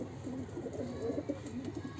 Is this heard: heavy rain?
no